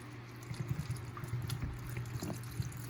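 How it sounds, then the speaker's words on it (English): Water poured over coco substrate inside a bag, a steady close trickling and splashing wash that runs unbroken for the whole stretch with no talking. "Now, take some water. You just want to pour it all over"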